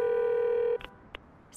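A steady electronic phone ringing tone from a cartoon holds for under a second, then cuts off, followed by a couple of brief clicks and quiet line noise.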